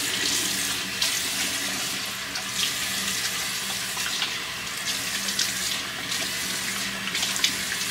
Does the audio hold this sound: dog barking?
no